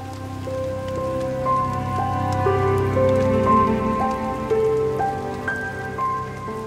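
Steady rain falls on a forest trail in a regional park, a dense continuous patter of drops with a few brighter ringing tones drifting through, no voices.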